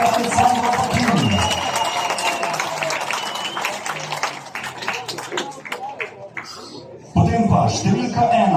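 An audience applauds the visiting Italian motorcycle club team at a speedway meeting in Krško, with a mix of clapping and crowd noise under a loud announcer's voice, then a brief dip and renewed noise.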